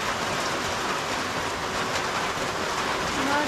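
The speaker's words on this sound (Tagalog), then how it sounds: "nagsisimula na guys yung umulan" Steady rain just beginning to fall outdoors, a dense close hiss of drops spread evenly across the whole stretch with no voices over it.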